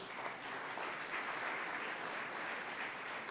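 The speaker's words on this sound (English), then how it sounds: "A round of applause for all of us." A conference audience claps in a dense, even wash of applause that holds steady at moderate loudness throughout, with no voices above it.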